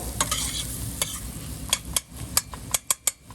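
Onions cooking in a pan while being stirred, a steady sizzle with a run of sharp, closely spaced spoon scrapes and clicks against the pan, near and without talk.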